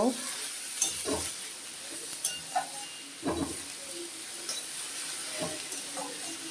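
Greens (noté shaak) with a sprinkle of turmeric frying in a pan, a steady soft sizzle with a few sharp spoon-against-pan stirring scrapes and knocks, close by, no talking.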